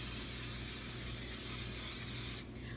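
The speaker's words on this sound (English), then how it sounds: "we're gonna go ahead and spray this." Cooking spray hisses steadily from a can onto a baking pan for bun dough, one continuous close spray that cuts off near the end.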